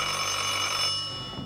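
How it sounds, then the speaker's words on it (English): An old-style telephone bell rings loudly in one continuous metallic burst, then cuts off and fades within a second and a half, with no voices. "phone rang"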